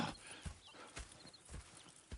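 Horses' hooves clip-clop in a steady rhythm in Red Dead Redemption 2, with a brief whinny in the mix, heard alone without talk.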